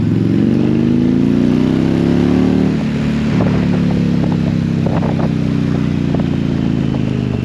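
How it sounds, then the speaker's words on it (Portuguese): A 2022 Indian Challenger Dark Horse motorcycle idles with a deep, steady exhaust rumble, then its pitch dips and it keeps running loud and close, with a few light clattering ticks. "estão a ouvir o barulho do escape?"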